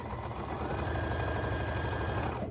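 A sewing machine chain-pieces quilt pieces for an Irish Chain quilt, a steady, loud, rapid mechanical whirr with a fast regular stitching pulse running without a break.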